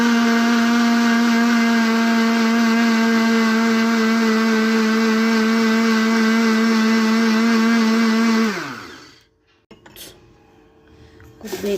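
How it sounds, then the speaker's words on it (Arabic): An electric blender mixing eggs and vanilla whirs loud and steady for several seconds, then spins down and stops, leaving a short rattle and quiet. "هضربهم مع بعض دلوقتي الاول في الخلاط"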